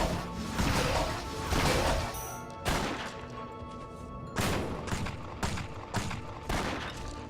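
Mimic chest monster attacking in the action RPG Torchlight: a dense run of loud, overlapping impacts, crashes and whooshing hits, repeated in bursts of combat with game effects layered beneath.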